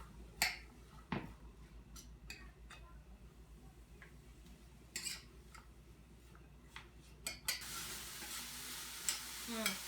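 Vegetables for a homemade pizza cook in a pan with a quiet, intermittent sizzle broken by clicks and spatula scrapes, close but faint, ending in a louder, steady hiss.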